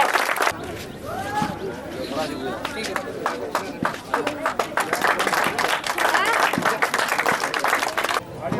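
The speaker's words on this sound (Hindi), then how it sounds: "जोरदार ताली बजा दे" An audience at a village sarpanch candidate's gathering claps loudly in a dense, continuous burst, with a voice speaking over the applause.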